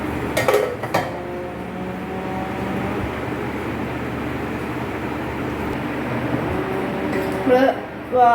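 Chopped ivy gourd is moved into a kitchen vessel, with clattering metal-on-metal knocks at the start and again near the end over a low steady background, and a voice speaking briefly toward the close.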